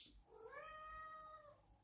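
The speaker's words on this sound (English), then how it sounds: "That's my cat crying" A house cat gives one drawn-out, rising and falling meow, loud and close, lasting about a second over quiet indoor room tone.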